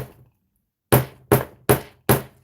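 Four hard, loud slams on a craft table in quick succession, each a sharp thudding impact with a short ringing tail, close and without talk.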